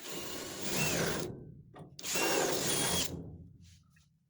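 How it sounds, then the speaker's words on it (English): A power drill whirs loudly in two bursts separated by a brief pause, biting through a car's metal floor pan and bracket up close, then winding down to quiet. "we want to drill through the 2 alignment holes that we had pre-drilled in our brackets"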